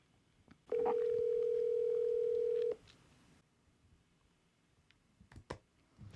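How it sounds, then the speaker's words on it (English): A telephone placing a call: a steady dial tone sounds alone for about two seconds, followed by a few faint clicks and taps against quiet room noise. "I got to make a phone call."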